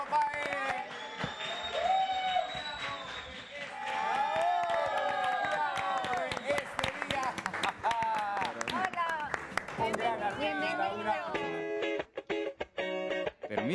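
Audience at a live show applauding to welcome an artist, with steady clapping and cheering that swells then fades, while a voice speaks over it and music plays near the end.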